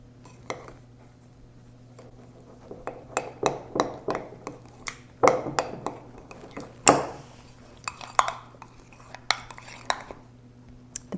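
A utensil stirring slime mixture in a container, giving a series of sharp clinks and scrapes at an uneven pace, close and fairly quiet over a steady low hum.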